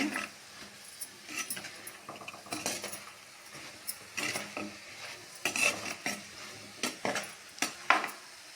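Drumstick, brinjal and potato pieces are stirred in hot oil in a pot for a Trichy-style kara kuzhambu. Soft scraping and clinking of the spoon come in uneven bursts over a faint sizzle, close but quiet.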